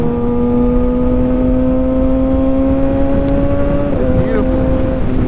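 A Kawasaki ZX6R 600 motorcycle engine revs steadily, its droning tone climbing slowly before a brief dip and recovery, loud and continuous throughout.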